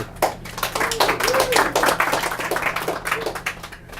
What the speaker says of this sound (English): Round of applause for Val.